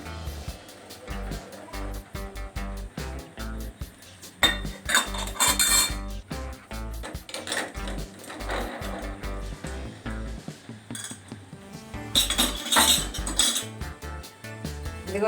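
Metal puja utensils clatter and clink close by as they are handled and rubbed with soap, with repeated knocks and scraping bursts, some louder clanging clusters, and faint background sound throughout.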